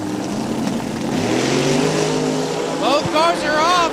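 Drag race cars Daddy Dave and Murder Nova, both Street Outlaws cars, roar off the line with loud, rising engine revs. A sharp burst of acceleration climbs in pitch near the end as a voice talks over the noise.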